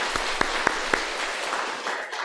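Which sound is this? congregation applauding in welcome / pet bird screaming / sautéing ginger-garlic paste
congregation applauding in welcome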